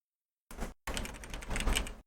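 Quick bursts of keyboard typing, close and crisp, with a short pause between two runs of rapid clacking keystrokes.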